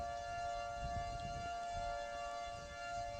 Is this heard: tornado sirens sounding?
yes